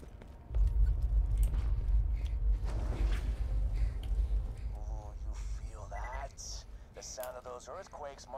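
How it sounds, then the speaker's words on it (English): Deep, sustained earthquake rumble in Borderlands 2 as drills bore toward the vault, loud and steady through most of the clip, with scattered game effects and chirps layered on top. "Earthquakes marks my drills getting closer and closer to the vault."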